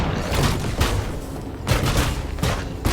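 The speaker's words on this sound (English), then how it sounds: "He can put up his arm to shoot." A mech's raised arm gun fires in the Trailmakers video game, producing a dense, continuous barrage of loud, booming gunfire bursts that pulse and swell throughout.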